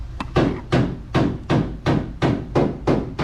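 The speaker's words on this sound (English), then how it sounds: "Get there with a pry bar like that" A pry bar strikes and levers at the front axle of a Nissan Rogue, ringing out as nine sharp, evenly spaced metallic knocks, close and loud, with no voices.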